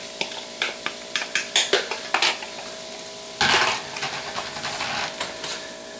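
Barbecue-sauced cooked chicken tossed in a pan for a quesadilla: a run of close metallic clinks and scrapes of utensil against the pan, then a louder burst of stirring and sizzling that settles into a steady shuffle.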